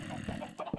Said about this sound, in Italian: Questi polli malefici volano via.